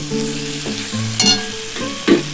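Crushed ginger and green chilli added to a sizzling pan for a vegetarian cauliflower dish: a close, continuous fry with two sharp stirring bursts over background music.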